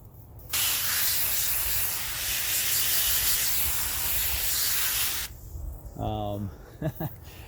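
A spray bottle mists water onto Sunbrella outdoor fabric treated with 303 Fabric Guard, a loud steady hiss lasting about five seconds, followed by a few brief rustles.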